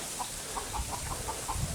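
A hen clucks softly among chickens outdoors, a series of short, evenly spaced low clucks at moderate distance over a steady background hiss.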